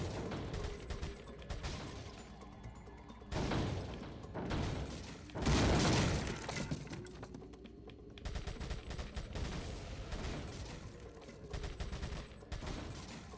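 Gunshots fire at targets in the Resident Evil 4 video game, with bursts of loud reports, a heavy boom in the middle and mechanical clatter, spread unevenly across more than ten seconds of game audio.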